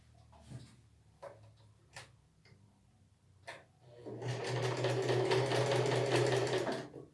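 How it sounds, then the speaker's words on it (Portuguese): A sewing machine stitches a seam with a 1 cm seam allowance, opening with a few isolated clicks and taps, then a steady fast whirring run of the needle for about three seconds, close and clear. "eu vou passar a costura aqui, com a margem de costura de 1 centímetro"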